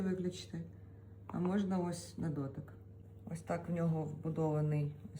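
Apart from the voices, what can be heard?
None of the usual background noises is heard.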